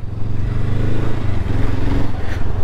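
A Honda CL500 motorcycle engine runs at low revs on a trickle of throttle, giving a steady, close, throbbing drone with a slight rise in pitch partway through.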